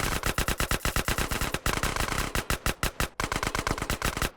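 Rapid bursts of automatic gunfire in the video game GTA San Andreas, loud and close, firing in long sustained volleys with brief pauses between them.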